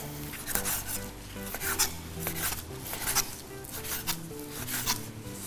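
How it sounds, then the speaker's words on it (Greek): Knife cutting bacon into small cubes on a board in a home kitchen, a steady series of short rasping, scraping strokes close by, alone without talk. "παίρνω τον μπέικον μου και το κόβω σε μικρά κυβάκια"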